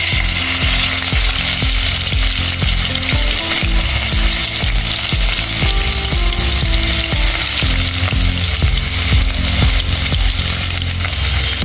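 Garlic and ginger sizzle loudly in hot oil, tempering for a spicy Kolhapuri-style tomato dal, with steady crackling and rhythmic stirring clicks throughout and no talking.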